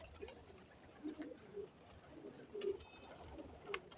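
Soft, low cooing from pigeons repeats in gentle bursts, faint and close, over quiet background noise.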